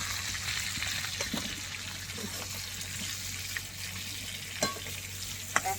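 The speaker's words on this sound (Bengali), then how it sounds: "এবার ভালো করে ভেজে নেবো আলু পটলটা" Potatoes and pointed gourd fry in a pan, giving a continuous close sizzle with scraping stirs and a couple of sharp metallic clinks near the end.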